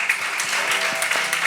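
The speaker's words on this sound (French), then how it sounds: "Est-ce qu'on peut recevoir avec des applaudissements bien mérités le professeur Roumenou Jean-Claude, s'il vous plaît?" An audience at a French-language talk-show magazine applauds a guest professor, dense close clapping filling the whole short stretch.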